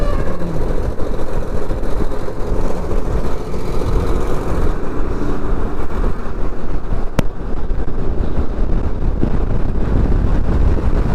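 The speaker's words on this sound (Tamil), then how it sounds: "காற்று ஆனால் செம்மையாக அடிக்குதுங்க" Strong wind roars against the microphone during heavy rain on a mountain road toward Leh, a loud, steady, dense rumble with brief gusty swells and no talk.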